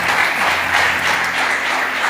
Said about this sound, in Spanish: Dile un aplauso al Señor, por favor.